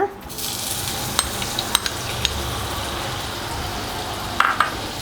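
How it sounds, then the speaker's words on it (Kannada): Butter sizzling in a hot kadai on the stove, a steady close frying hiss throughout with a few sharp ticks and a brief crackle near the end. "ಒಲೆ ಮೇಲೆ ಕಡಾಯಿ ಬಿಸಿ ಆಗಿದೆ. ಬೆಣ್ಣೆ ಇಟ್ಕೊಂಡಿದ್ವಲ್ಲ ಅದನ್ನು ಹಾಕ್ಕೊಳ್ಳೋಣ."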